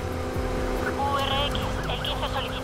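A 1955 Chevrolet Bel Air driving in the racing game Need for Speed Heat: a loud, continuous engine drone with shifting tones and brief tire squeal, while someone talks over it.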